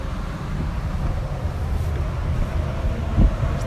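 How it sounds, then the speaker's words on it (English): Strong wind at Sumburgh Head, Shetland, rumbles as a low, gusty buffeting against the microphone, steady and moderately loud with a brief thump near the end. "It's going to be windy."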